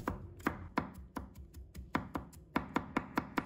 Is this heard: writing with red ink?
no